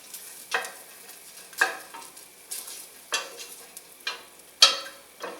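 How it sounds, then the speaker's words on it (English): Bacon fries in a pan with a faint, steady sizzle, broken by repeated scraping and stirring strokes every second or so, close by and with no talking. "Nothing like sizzling bacon."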